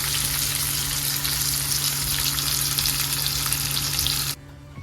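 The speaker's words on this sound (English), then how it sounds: "So I'm going to saute these onions up, okay, for a few minutes" Onions sautéing in a skillet give a steady, close sizzle with crackling oil that holds for about four seconds, then cuts off abruptly to near silence.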